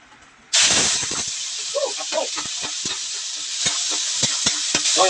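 Pork hits hot oil in a wok with a sudden loud hiss, then keeps sizzling steadily while a spatula scrapes and clacks against the pan in irregular strokes, close up, for a bean sprout and pork stir-fry.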